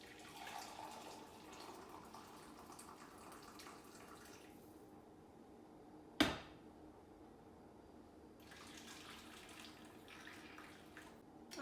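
Boiled water pours into a baking pan in a faint, steady trickle that breaks off midway, with one sharp knock, then resumes; quiet and close, no voices.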